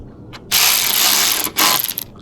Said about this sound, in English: With the open end wrench, you could tighten down or use the tool.